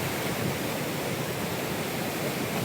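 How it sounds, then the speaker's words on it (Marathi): A waterfall pours during heavy monsoon rain at a hillside shrine near Nashik, a dense, unbroken rushing roar at even level with no breaks. "आता हा धबधबा बघा."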